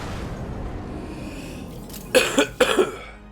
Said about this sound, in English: Sorry about all the coughing and everything